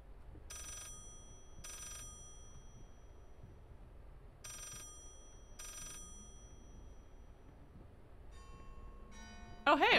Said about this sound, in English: Oh my god, phone. Stop calling!